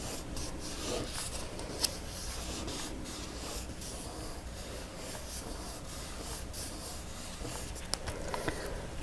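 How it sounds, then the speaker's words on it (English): A fingertip rubs slowly along paper to press glue into a taped edge while a snowflake luminary is being made, a soft, faint, continuous dry rasp with small ticks, close and without any talk. "I'm simply running my finger down from the inside out and getting it glued in."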